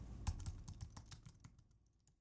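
Quick bursts of key clicks from a computer keyboard as a sample name is typed into music software, dense at first and then thinning out over two seconds, close and fairly quiet.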